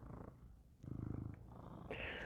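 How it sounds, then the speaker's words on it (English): Captain Jack, a house cat, purrs close up in a soft rhythmic rumble that swells in the middle, with a few faint clicks and shuffles around it. "This is my cat, Captain Jack."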